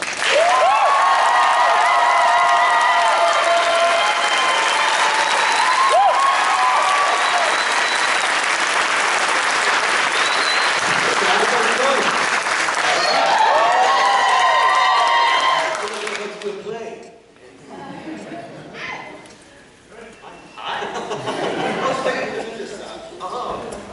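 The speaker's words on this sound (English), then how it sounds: "let's give a big round of applause for Matt Ryan and Nick Zano" Convention audience at a Legends of Tomorrow panel applauding and cheering for guests Matt Ryan and Nick Zano, a loud sustained roar of clapping and whoops lasting about fifteen seconds before fading into quieter crowd murmur and scattered voices.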